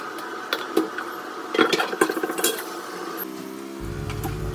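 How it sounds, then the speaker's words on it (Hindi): Boiled potatoes, tomatoes and eggplant are emptied from a pressure cooker, with close metallic clinks, scrapes and utensil taps against the pot in a burst of clatter, no talking. "आलू, टमाटर और बैंगन उबल चुका था, तो मैं उसे खाली कर लेती हूँ कुकर में से।"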